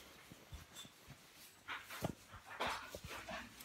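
A dog at home gives a few short barks and whimpers, with scattered thumps and rustling nearby, fairly faint over a quiet indoor background.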